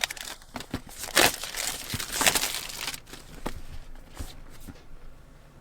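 DJI packaging being pulled open by its tear tab: close crinkling and tearing of paper and plastic in short irregular bursts, loudest near the start and fading toward the end, with no talk.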